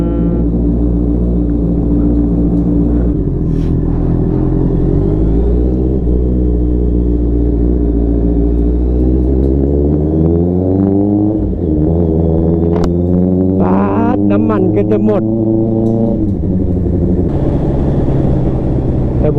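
A car engine turning over and running at a steady low rumble, with the pitch rising and falling through a few revs, loud and close throughout.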